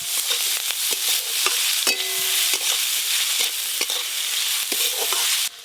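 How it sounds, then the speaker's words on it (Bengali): Onion petals being stirred gently in a frying pan with a little salt, a steady bright sizzle with repeated scraping strokes of the spoon throughout, close and fairly loud, no talking. "পেঁয়াজ কলিগুলোও কিন্তু একদম হালকা করে নাড়তে হবে।"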